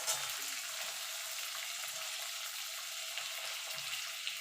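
Tomato being stirred and fried in a pan for Bengali masoor lentil dal with onion and garlic, giving a steady, soft sizzle with faint scraping of the stirring spoon throughout, close and quiet with no talk.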